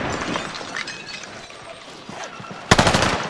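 Hostile gunfire in a Call of Duty game: scattered faint shots in the background, then a sudden loud, sharp burst near the end with a crackling, shattering edge.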